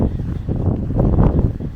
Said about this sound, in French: C'est fatigant quand le vent souffle.